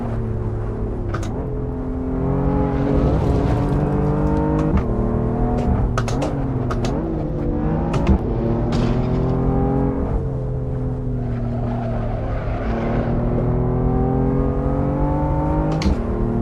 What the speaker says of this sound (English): This is LA Canyons, and this is a BMW M4.